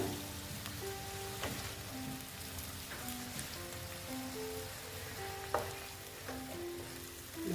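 Pabda fish fries lightly in a pan, a soft, even crackle and hiss like light rain with faint scattered pops, heard quietly throughout.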